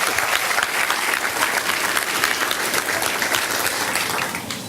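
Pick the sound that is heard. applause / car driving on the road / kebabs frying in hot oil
applause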